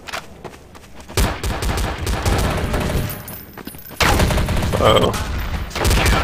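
Rapid bursts of gunfire from the game Counter-Strike: Source, loud, repeated shots in two dense stretches separated by a short lull, with a brief voice speaking over it.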